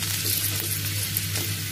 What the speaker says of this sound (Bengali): ওখানে তো আমি এখানে পেঁয়াজ, মরিচ আর গাজরটাকে হালকা তেলের মধ্যে এই যে ভেজে নিচ্ছি।